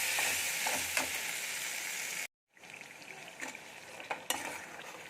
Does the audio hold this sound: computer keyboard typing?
no